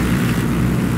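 Armed helicopter in Ghost Recon Wildlands during air combat, a close, steady droning roar of rotor and engine with no voices.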